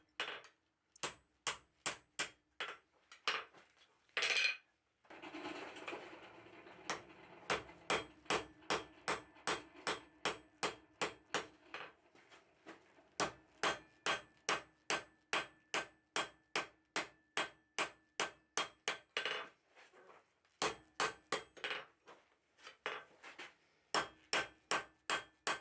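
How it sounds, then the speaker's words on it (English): Blacksmith hammering a 1/2-inch square steel bar into a tong blank, sharp ringing metallic blows in steady rhythmic runs with brief pauses, close and loud with no talk. "Everything behind this point just gets hammered down to a thick,"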